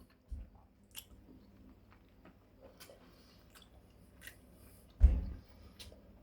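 Someone eating freshly cooked spaghetti, with soft wet chewing and biting sounds close to the mic, quiet overall, with a louder bite or squish near the end.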